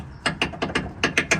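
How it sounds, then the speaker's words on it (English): Ratchet wrench turning out the last bolt from a Tahoe's suspension during a lowering job, a quick series of about seven loud, close clicks in uneven rhythm. "I'm just taking this last bolt out"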